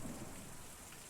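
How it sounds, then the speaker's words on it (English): Steady rain pours in the video game Kentucky Route Zero, a dense hiss of drops on surfaces with a low rumble beneath, continuous and fairly close, with no voices. "it's raining pretty bad"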